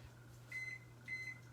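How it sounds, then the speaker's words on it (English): A microwave oven hums steadily in a home kitchen while two short electronic beeps sound close by, with no talking. "I'm going to microwave this"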